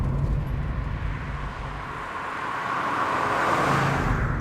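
A 1986 Audi Quattro pulls in fourth gear near 3,000 rpm, its engine note a steady, broad drone that rises slightly toward the end amid road and wind noise.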